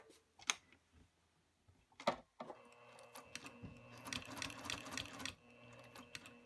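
Sewing machine slowly stitching the corner of a fabric bowler bag, with short bursts of rapid mechanical clatter separated by pauses and handling clicks, close and moderately loud.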